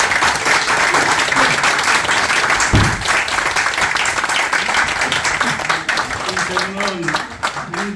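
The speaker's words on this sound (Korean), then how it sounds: "세 분 박수로 맞이해 주십시오" An audience at a poetry book concert claps to welcome three guests, with loud, sustained applause filling the hall for several seconds and voices faintly heard toward the end.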